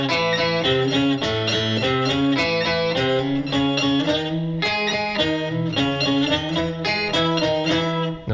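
An electric guitar plays, very slowly, the bridge lick from a song: a root sliding into the third and grabbing the fifth. Thick, ringing chord-like notes follow in an even pulse, close and without any voices.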